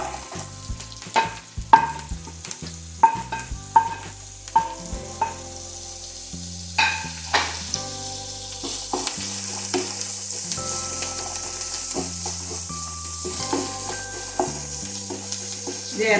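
Carrots frying and stirred in vegetable oil or coconut oil for paneer butter masala, a steady close sizzle broken by repeated clinks and scrapes of a spoon against the pan.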